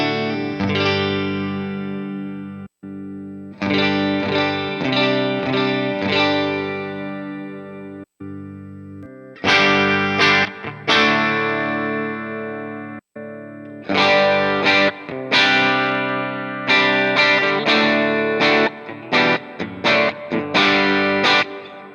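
An electric guitar runs through a Line 6 Helix amp model with distortion and chorus-style effects, playing loud, sustained chords in phrases broken by short pauses and ringing out with some reverb.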